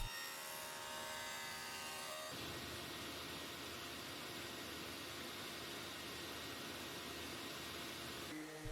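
A chisel pares away a small leftover wood point on glazed joinery, a soft, steady rasping scrape lasting several seconds, faint and close, with a low hum in the background and no speech.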